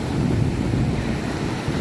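Big ocean waves surge and crash at Kuta Beach, Bali, a loud continuous roar of surf with wind buffeting the microphone, steady throughout with no voices.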